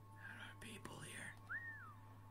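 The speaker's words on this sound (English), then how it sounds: "I whistled over two of them!" A player character in the video game Assassin's Creed Rogue gives a single short rising-and-falling whistle, clear and close, right after a stretch of soft whispered talk.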